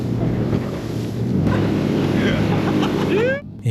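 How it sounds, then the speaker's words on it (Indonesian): A boat motor runs fast on the open sea with a steady engine roar, rushing wind and water noise. Voices come through faintly underneath, and the sound cuts off briefly near the end. "sekarang kita udah di kapal jalan cepat"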